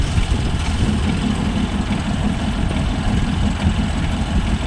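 A John Deere 5405 CRDI 4wd tractor engine runs steadily close by during black rice harvesting, a dense continuous low rumble with no clear revving and no voices.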